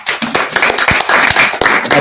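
An audience at a live concert and diaspora conference claps steadily, a dense, loud patter of many hands with no break.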